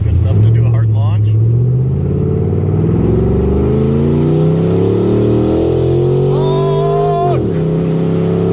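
A 4th-generation Ram 1500 Hemi pickup engine fitted with Pace Setter headers revs hard on a highway launch and climbs steadily in pitch as it accelerates, then drops sharply as the throttle lets off near the end.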